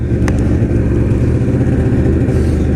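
A 1997 Ski-Doo MXZ snowmobile engine runs steadily close by with an even, throaty drone and a slight uneven pulse. No talk is heard.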